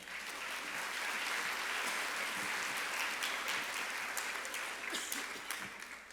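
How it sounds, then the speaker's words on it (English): Audience at a high school senior awards ceremony applauding the senior class and student council officers, a sustained wash of clapping that swells and then tapers off near the end. "Let's give one more round of applause for our senior class and student council officers"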